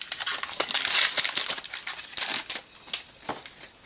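A Yo-Kai Watch card booster pack being torn open up close, a run of sharp crinkling and ripping foil bursts in quick irregular succession, loud at first and tapering off.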